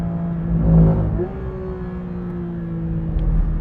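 Engine note of a 2023 Porsche 911 GT3 RS (992) on a race track, a steady high-revving drone with a pitch shift around a gear change, loud and close with no talk.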